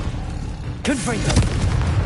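A Confringo blasting spell in Hogwarts Legacy bursts in suddenly with a sharp whooshing boom and crackling tail, loud and close, partly over a voice.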